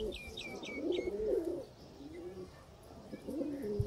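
Sialkoti pigeons coo in low, rolling phrases close by, with a few faint higher chirps from other birds early on and steady background noise, no talking.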